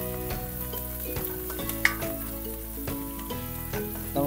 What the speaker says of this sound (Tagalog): kapag brown na yung ating bawang, lagyan na rin natin yung ating sibuyas.